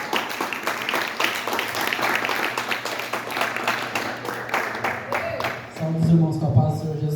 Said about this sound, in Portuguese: Você pode adorar Jesus com as palmas?